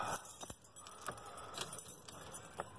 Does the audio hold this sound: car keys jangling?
yes